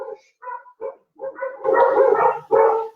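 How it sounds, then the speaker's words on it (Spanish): Several dogs bark outside, a run of short separate woofs building into a dense, overlapping burst of barking and yelping, heard at moderate distance with no talking. "Ya tenemos la zarabanda de los perros allá afuera."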